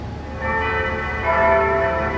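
Church bells of Saint-Antoine le Grand ring in a short burst, overlapping metallic tones sustaining and swelling slightly, heard alone at moderate distance with a low background hum.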